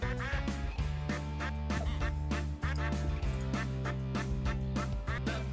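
Stage music from the Nickelodeon All-Star Brawl video game with a quacking duck sound built into it, loud, rhythmic, repeated quacks over a steady bass beat.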